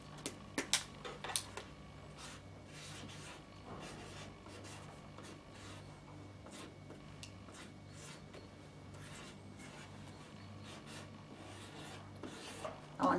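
A chalk marker scratches and rubs across a chalkboard fabric cushion in soft, intermittent strokes, faint and close, with a few sharper taps near the start and end.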